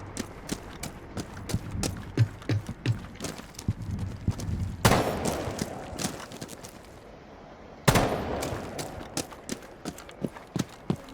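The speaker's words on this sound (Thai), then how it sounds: "ยิงไปก่อนเลยปึ๊บปึ๊บปึ๊บปึ๊บปึ๊บปึ๊บปึ๊บ" Gunfire in the tactical shooter Rainbow Six Siege: a quick string of sharp, snappy shots, with two louder, fuller blasts partway through over a busy game backdrop.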